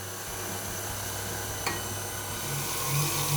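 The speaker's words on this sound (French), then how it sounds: "Donc j'ai baissé la vitesse du batteur." An electric mixer with a whisk hums steadily at a lowered speed while melted butter is blended into a lemon-coconut entremet batter, a continuous even whir with one brief scrape midway.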